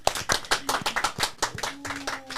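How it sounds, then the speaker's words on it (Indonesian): Hands clapping in quick, uneven bursts for an Indonesian competition team's third-place result, loud and close throughout, with a faint voice briefly under the clapping. "Aplaus dulu dong teman-teman."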